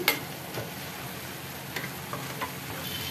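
Eggs frying in a pan for egg cauliflower pulao, a quiet steady sizzle with a few soft taps and scrapes of stirring, close but low in level, no talking.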